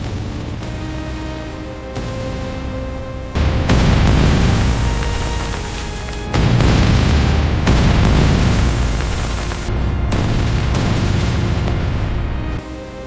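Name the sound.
bombs exploding after being dropped on a rail junction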